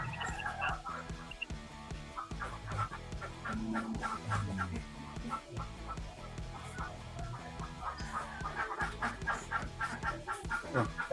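Ducks being fed, giving off scattered quacks and clucking-like calls at a moderate distance under a busy, uneven background.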